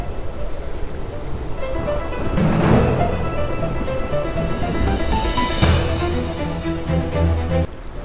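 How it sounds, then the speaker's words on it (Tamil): Story sound effect of a sea storm: steady heavy rain hissing throughout, with rumbling swells and surging gusts rising and fading, no voices. "திடீர்னு கடல் புயல் வந்துச்சு."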